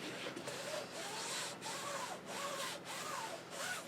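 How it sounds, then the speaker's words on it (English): A bone folder rubs and burnishes tape on a die storage folder, close and faint, in repeated scraping strokes about every half second. "I'll go in with my bone folder on the side, and I just ease it into position"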